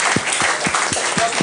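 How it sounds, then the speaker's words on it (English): Audience applause at a cybersecurity talk, loud and close, with evenly spaced claps pulsing several times over a steady bed of hand noise. "Give him a round of applause."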